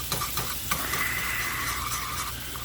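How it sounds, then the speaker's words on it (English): A wire whisk stirs flour into melted butter in a pan, a soft steady scraping and swishing over a faint sizzle, close and quiet with a few light taps. "Take my wire whisk."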